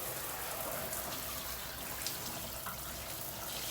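Water runs steadily from a tap during rinsing off an at-home foot peel, a close, even rushing splash with a few small drips and clinks, no one speaking.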